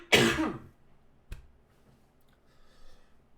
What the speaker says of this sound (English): One more cough for good measure.